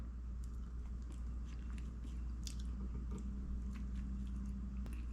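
Veggie meat loaf sandwich from a deli being bitten and chewed close to the mic, a steady run of soft squishy mastication with occasional crunchy bites across several seconds, no talking.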